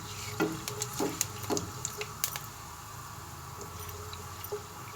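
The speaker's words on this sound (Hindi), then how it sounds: "जब घी ऑयल गरम हो गया तो हम तमाम मसाले इसमें डाल रहे हैं।" Whole garam masala spices and a bay leaf hit hot ghee and oil in a pot, giving a few sharp crackles and pops over a soft, steady sizzle, fairly quiet and up close.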